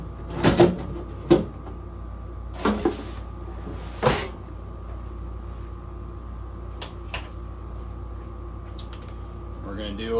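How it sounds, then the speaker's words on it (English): Drawers slid out of a wooden cabinet give a few sharp, close knocks and scrapes, mostly in the first four seconds, then a quieter stretch with a low steady hum and small clicks. "So first thing, we'll take out these drawers."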